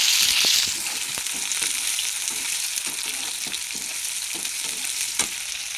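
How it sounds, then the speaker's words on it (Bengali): Onion frying in a pan for a bean chorchori, a steady, moderately loud sizzle with regular taps from a stirring spoon and a brief louder burst at the start, no voices. "এই শিম চচ্চড়ির জন্য পেঁয়াজটা প্রায় আমার ভাজা হয়ে গেছে।"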